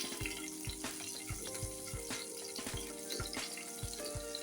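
Nigella seeds and chopped green chillies spluttering in hot frying oil, a faint, steady sizzle punctuated by regular soft pops and taps, no voices.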